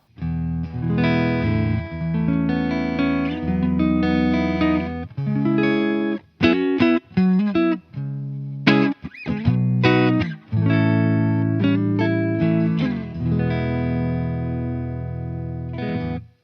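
Clean electric guitar from a kit-built guitar through a Fender Deluxe Reverb amp plays sustained chords and short melodic runs with a few brief pauses, bright and ringing with a touch of reverb.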